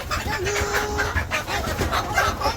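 Farmyard chickens and roosters in a village poultry farm cluck steadily and close by, with overlapping calls and a low background murmur throughout.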